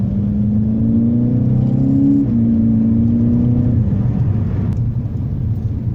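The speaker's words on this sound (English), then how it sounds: "the engine noise in the cabin is absolutely fantastic" A Seat Ibiza Cupra Bocanegra engine drones loudly from inside the cabin, its pitch climbing through gears with brief shifts, then easing off near the end.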